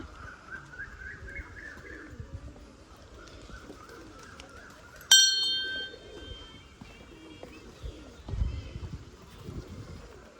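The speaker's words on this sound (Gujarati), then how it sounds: "જો કેવી સરસ મજાની કોયલ બોલે." An Asian koel calls repeatedly in rising phrases in the background at Uparkot Fort in Junagadh, with distant voices and a sudden sharp metallic clang midway.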